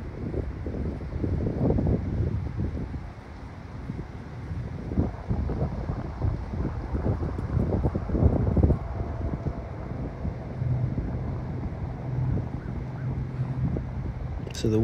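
Wind gusts across a golf course, buffeting the microphone with a steady low rumble and roar that rises and falls for the whole stretch.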